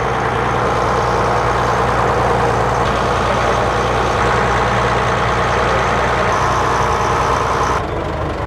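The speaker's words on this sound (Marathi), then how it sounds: "चला फायनली बोट निघाली" Steady, loud low rumble of a wooden boat's engine as it sets off toward Murud Janjira fort, droning evenly throughout with no voices.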